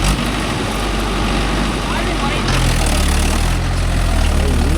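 A Mahindra 575 DI tractor's diesel engine runs loudly and steadily nearby, pulling a 9-tine cultivator, a low rumbling drone that shifts pitch slightly partway through, with voices talking over it.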